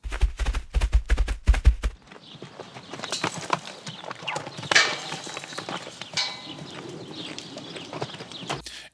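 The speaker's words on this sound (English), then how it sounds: "So you hear like a horse running by, you hear like some lassos going, fence clanking, birds and things like that." Farm sound effect track with a horse running by: rapid hoof clip-clop loud at first, then fading into a busier ambience of clanks and bird calls at moderate distance.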